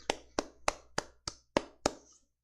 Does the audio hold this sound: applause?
yes